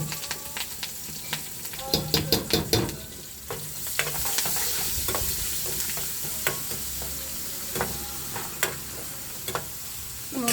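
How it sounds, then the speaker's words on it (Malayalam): Mustard seeds and chopped onion crackle and sizzle in hot coconut oil in an aluminium pan, with sharp popping bursts early and a continuous close frying hiss under occasional stirring. "വെളിച്ചെണ്ണ ഒഴിച്ചു ചൂടായിട്ടുണ്ട്. എന്നുണ്ട് കടുക് ഇടുവാണ്"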